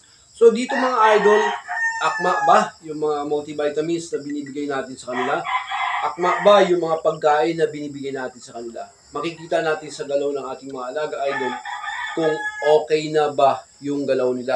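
Gamecock roosters crow and cluck in a keeping pen while someone talks steadily over them, with crickets chirping faintly in the background.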